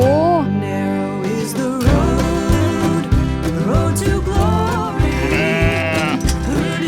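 Several sheep bleat repeatedly and loudly at close range while being hand-fed pellets on a farm in Chiang Rai, Thailand, with overlapping wavering calls and busy farm noise.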